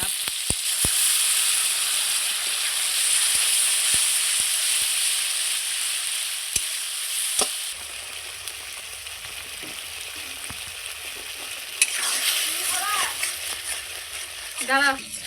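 Ginger, garlic and chili paste fries in oil with softened tomato, giving a loud, continuous hiss and sizzle broken by sharp clicks and spoon scrapes, with a few louder bursts toward the end.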